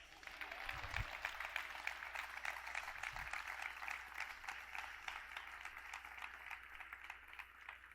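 A church congregation at an evangelistic campaign in Chiapas applauds, a faint, distant wash of many hands clapping steadily with a couple of low thumps near the start.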